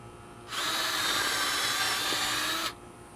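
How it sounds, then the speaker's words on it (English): A power drill pre-drilling holes in rough wood with a regular bit whirs steadily for about two seconds, fairly close, starting and stopping abruptly against a quiet background. "we're gonna pre-drill the holes"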